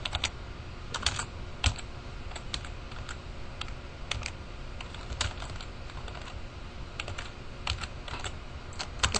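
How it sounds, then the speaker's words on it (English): Computer keyboard being typed on and clicked, a quick irregular patter of close, crisp keystrokes in bursts with brief pauses, heard alone without talking. "Yes, enjoy all the clicking"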